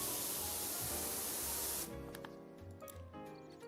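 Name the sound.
pressure washer spraying floors in PowerWash Simulator, a video game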